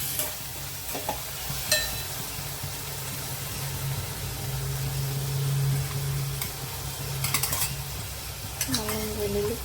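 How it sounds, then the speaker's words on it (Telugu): Ginger garlic paste sizzles in hot oil in a pan for a bachelor-style stuffed brinjal curry, with a spoon scraping and clinking against the pan during the stirring; steady frying hiss, close up, no talk. "అల్లం వెల్లుల్లి పేస్ట్ వేసుకోండి."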